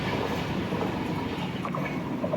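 A train rushes through platform 1 at Mayyanad village railway station in India, a steady loud rumble and rush of carriages close by with faint wheel clatter, no talk.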